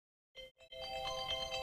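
A phone ringtone breaks a silence with two short bursts, then rings on in a steady, continuous melodic tone, moderately faint and alone.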